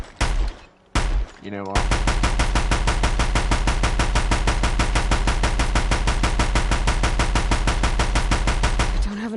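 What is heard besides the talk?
gunshots fired in video game Horizon Zero Dawn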